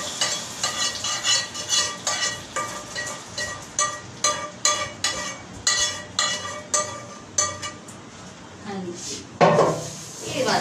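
A spoon stirs hot caramel in a pan with a steady rhythm of scraping clinks, then tea is poured in and sets off a sudden loud hissing burst near the end.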